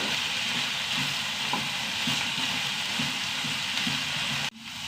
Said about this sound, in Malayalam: നന്നായി വഴറ്റിയെടുക്കട്ടെ കേട്ടോ കളർ മാറണം നന്നായി